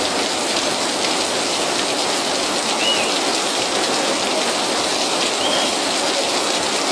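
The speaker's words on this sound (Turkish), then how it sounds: "İnanılmaz derecede yağmur yağıyor bugün." Heavy rain pours down steadily in Hopa, Artvin, during a flood-producing storm, a dense, loud, unbroken patter on surfaces with no voices.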